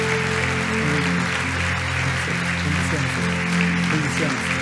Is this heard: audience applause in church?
yes